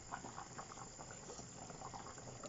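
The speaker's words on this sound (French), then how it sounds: "On va laisser mijoter 20 minutes." Squash and zucchini soup simmers gently in a pot, a faint continuous bubbling with soft irregular pops throughout.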